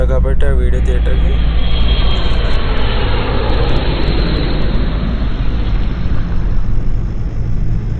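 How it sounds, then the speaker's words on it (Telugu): An airplane climbs after takeoff on an airport route, a loud, steady broadband engine roar that fills the whole stretch with no break and fades only slightly toward the end. "అది ఎయిర్పోర్ట్ రూటు ఫ్లైట్ వెళ్తుంది అనమాట."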